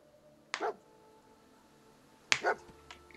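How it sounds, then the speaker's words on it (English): Two sharp, short dog barks sound in the Fallout 4 video game, spaced about two seconds apart, close and clear over a quiet background hum. "Alert bark."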